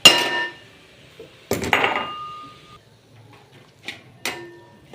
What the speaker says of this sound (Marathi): त्यानंतर ड्रायफ्रूट्स कुटून टाकायचे